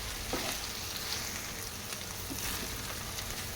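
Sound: okra pieces frying in oil

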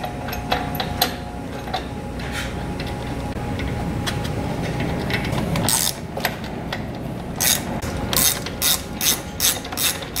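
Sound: ratchet tightening bolts securing gear motor on auger shaft

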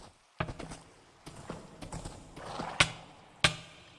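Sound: horse moving in the video game Minecraft

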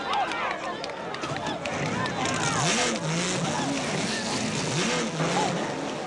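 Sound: 3.5-litre twelve-cylinder Ferrari racing sports car

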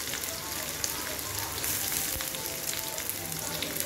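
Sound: onions frying until red

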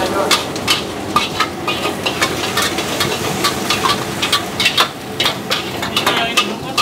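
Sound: food frying in a pan

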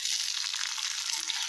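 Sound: green chillies frying in oil with peanuts and curry leaves

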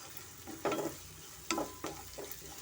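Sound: green chili and ginger frying in a pan

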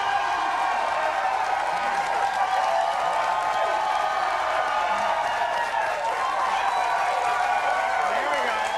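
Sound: studio audience standing ovation applause

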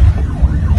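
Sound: ambulance siren

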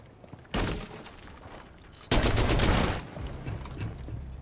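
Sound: gunshots hitting C4 in a video game (Rainbow Six Siege)

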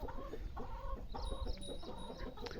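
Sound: chickens clucking on a goat and poultry farm

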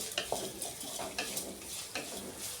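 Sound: tomato masala being stirred and frying in a pan

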